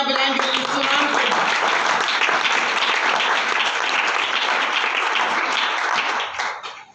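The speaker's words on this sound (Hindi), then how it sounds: "आज जोरदार तालियां बजाएंगे यीशु नाम को" A church congregation bursts into loud, sustained applause during a Hindi-Urdu sermon, dense clapping filling nearly seven seconds before tapering off at the end, with a voice faintly audible at the start.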